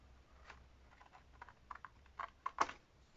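Paper is trimmed for a junk journal with a few quiet, irregular snips and rustles that grow slightly louder toward the end, close by in a quiet room.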